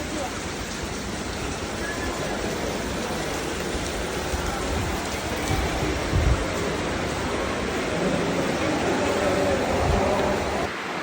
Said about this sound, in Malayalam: ചെറിയൊരു മഴ പെയ്തുകൊണ്ട്